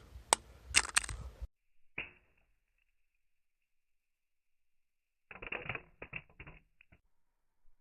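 A Verizon LG Vista phone is dropped from head height onto a hard surface, landing with a cluster of sharp clattering impacts. A short pause follows, then a second burst of rattling clicks as the phone is handled or bounces.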